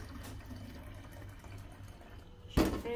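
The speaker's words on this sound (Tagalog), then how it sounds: "Siyempre, dagdagan ng tubig" Water is poured into coffee being mixed for watering plants: a short, loud splashing pour bursts in near the end after a quiet, faintly humming room.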